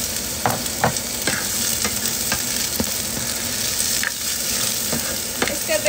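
Onions fry and sizzle in a pan for Filipino provincial-style tilapia escabeche, a steady close hiss broken by scattered sharp clicks of stirring, with no voices.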